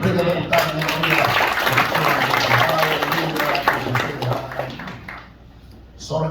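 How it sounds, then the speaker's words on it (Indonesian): A church congregation claps loudly and steadily during a sermon, a dense rolling wash of hands with voices mixed in, fading toward the end before a brief swell. "Berikan tepuk tangan yang meriah."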